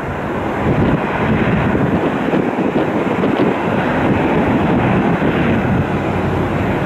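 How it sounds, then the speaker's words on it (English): A Boeing 737 airliner taxiing at an airport gives a loud, steady jet engine roar that rumbles continuously throughout, with some wind buffeting and no voices. "Got another UA 737 be taxiing in."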